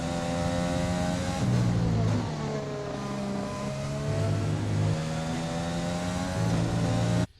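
Race car engine in the F1 2020 video game at the Austrian GP, a steady loud high-revving drone with stepped pitch shifts as gears change, alone throughout.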